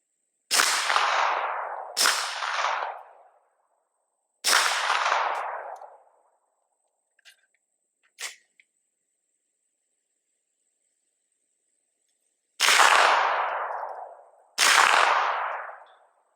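Gunshots fired in an outdoor armor field test, five loud sharp blasts spaced seconds apart, each with a long decaying echo, separated by near silence.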